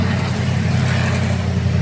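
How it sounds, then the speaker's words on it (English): Loud, close truck engine roar, a dense steady rumble filling the whole moment as it passes. "Damn, that truck's noisy"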